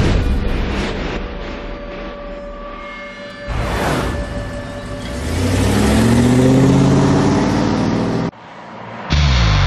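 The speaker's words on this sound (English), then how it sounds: "The F-150 reaches speeds approaching 100 miles an hour, revving up to the red line hours on end" A Ford F-150 with an EcoBoost V6 engine towing a heavy load at full throttle, its engine note rising and droning loudly with whirring and shifting tones, broken by abrupt cuts in the sound.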